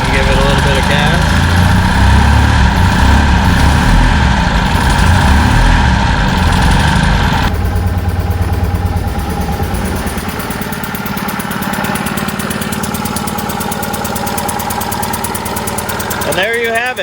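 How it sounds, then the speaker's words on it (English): A 1957 Lloyd LP600 two-cylinder engine running loud and close, roaring with throttle at first, then settling into a steady rattly idle, with voices over it. "there you have it, a 2-cylinder Lloyd engine"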